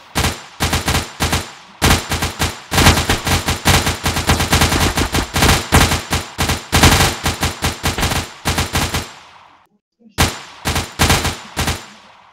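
Rapid automatic gunfire from the video game Project Confrontation, loud and close, in dense bursts that run almost continuously for about ten seconds, then a short pause before more bursts.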